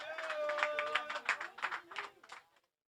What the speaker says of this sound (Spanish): ¡Aplauso, loco!